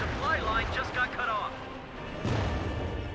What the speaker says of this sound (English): Pack howitzer